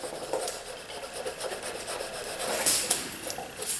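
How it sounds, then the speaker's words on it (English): Rough, rasping scrubbing strokes repeat back and forth as a sanding block rubs surface rust off steel, close and moderately loud. "take one of these sanding blocks to get rid of some of that surface rust"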